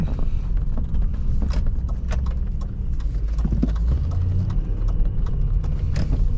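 A 2002 Ford Thunderbird engine rumbles steadily while driving with low, continuous drone and occasional knocks and rattles, close and fairly loud, no talking.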